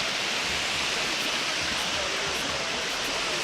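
The waterfall at Anse La Raye pours in a dense, constant hiss of falling water, steady and loud with no other sounds above it.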